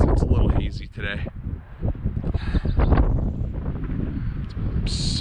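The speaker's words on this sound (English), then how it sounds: "It's so windy right now." Strong wind buffeting the microphone on a mountain summit near Prescott, Arizona, a rough low rumble in uneven gusts throughout while a person talks over it.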